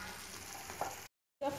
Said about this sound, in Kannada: ಟೊಮೆಟೊ ಕೂಡ ಚೆನ್ನಾಗಿ ಫ್ರೈ ಆಗಿದೆ